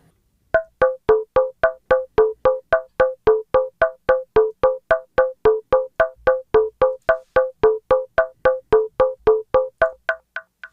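A synth patch with a chorus ensemble effect plays a steady run of about thirty short, evenly spaced plucked notes. Each note decays quickly, and the run is clean and alone with no other sound.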